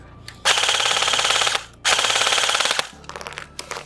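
An E&C retro-style airsoft gun fires in two long, loud, rapid full-auto bursts, followed by a shorter string of quick individual shots, all close and unaccompanied by talk.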